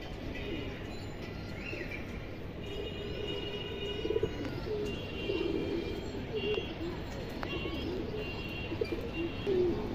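Pigeons kept for sale at a Bangladeshi pigeon market coo softly and intermittently amid a dense hum of background noise, with faint chirps from other birds scattered through.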